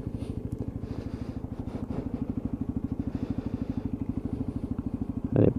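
A Lexmoto ISCA 125cc motorcycle idles in neutral, a close, even low-pitched putter with a fast steady beat, ending in a brief louder clatter.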